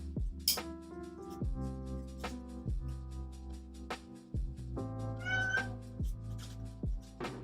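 A small cat meows repeatedly in an art studio, with several distinct, fairly close calls spread over a sustained background tone.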